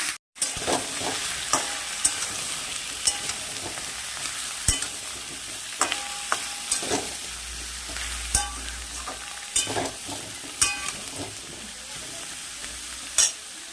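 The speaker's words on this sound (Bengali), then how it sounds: "চলো তাহলে একটু নাড়িয়ে দিই" Bottle gourd and potato pieces frying in a pan as they are stirred, with continuous hissing sizzle broken by regular sharp scrapes and clacks of a spoon, close-up and fairly loud.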